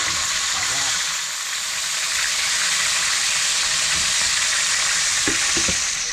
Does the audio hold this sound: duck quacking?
no